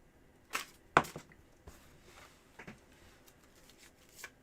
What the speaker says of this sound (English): So here's your 10 shuffles.